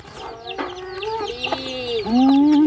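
Chickens cluck in a steady run of close, overlapping calls that build louder toward the end, with no talk over them.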